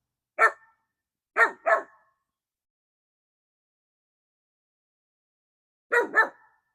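A small female dog barks with a big voice, one sharp bark followed by a quick pair, then another close double bark after a pause, loud and near with silence between and no talk.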